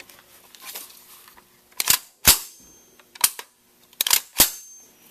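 FN PS90 rifle being reassembled, with several sharp metallic clicks and snaps spaced irregularly as the barrel is pushed down and locked into place, close and crisp over a quiet background.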